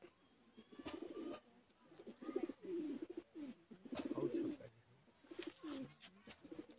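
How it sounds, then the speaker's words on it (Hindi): Soft, low cooing from a desi high-flyer pigeon repeats in rounded bursts, faint and close by, with a few muffled background noises in between. "बहुत ही बारीक पुतरी का कबूतर है"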